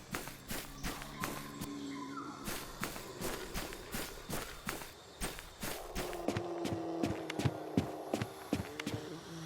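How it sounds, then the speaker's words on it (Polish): Steady footsteps thud along at a regular walking pace, crisp and close, over a faint ambient hum with no talking. "Nic, tylko moje kroki."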